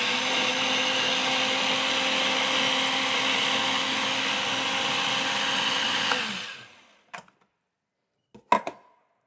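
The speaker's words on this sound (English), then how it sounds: "let's give this blender a whirl" A food processor whirs loudly and steadily for about six seconds, blending oats, salt and pepper, then winds down, followed by a few brief clunks and knocks from the machine or its lid.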